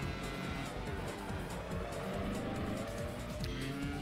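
Racing cars in the PS2 game Grand Prix Challenge, a continuous whining engine drone with shifting pitch and faint tire noise, steady and fairly quiet throughout.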